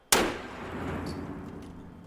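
A single sharp gunshot fired for a slow-motion camera bursts out loud and close, then decays into a long ringing echo with faint metallic clinks trailing after.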